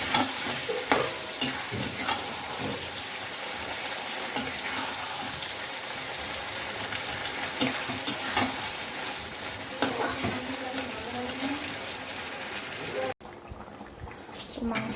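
Meat being stir-fried for kosha mangsho, sizzling steadily in a hot pan with intermittent scraping and stirring clatters, close and fairly loud, ending abruptly near the end.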